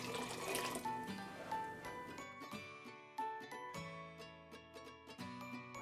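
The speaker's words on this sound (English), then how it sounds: "So now I'm just gonna pour in 4 extra cups of water." Water pours into a soup pot for a creamy vegetable soup, first a steady splashing stream, then quieter trickles and bright metallic pings and drips as the pour tapers off, close by and without talk.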